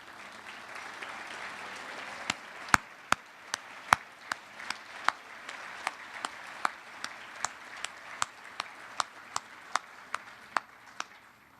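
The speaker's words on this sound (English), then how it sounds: "Please join me in a round of applause for those in this category." Applause at a university staff awards ceremony, a soft, distant wash of clapping under which one nearby pair of hands claps sharply in a steady, slow beat of about twenty claps.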